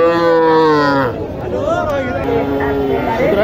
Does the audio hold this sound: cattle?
yes